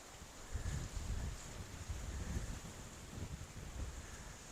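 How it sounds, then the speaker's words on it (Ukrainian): Strong gusty wind buffeting the microphone, a low rumbling roar that swells and fades in bursts over a steady hiss. "Сьогодні вітер дуже сильний, не знаю чи не вплине це на звук"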